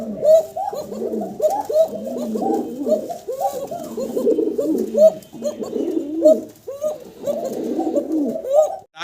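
Several pigeons coo in a steady, overlapping chorus of low, throaty calls close by, the repeated rounded phrases running continuously with no talk over them.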